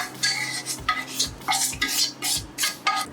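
Sesame seeds and coconut roast in ghee while a utensil stirs and scrapes the pan in a regular rhythm of distinct strokes over a light sizzle.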